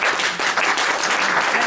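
Audience at a fireside talk applauding to welcome a guest speaker, dense and steady clapping from many people, fairly close and without a break.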